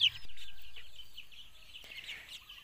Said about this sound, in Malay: Ni anak ayam pertama yang saya bela dari diorang lepas menetas.